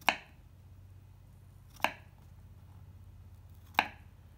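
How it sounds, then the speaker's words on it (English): A hand cutter carves a design into a print block at home for a natural-dyed fabric banner. It gives three crisp, isolated cutting clicks about two seconds apart over a quiet, faintly humming background. "I'm cutting away from myself and getting some of those designs done."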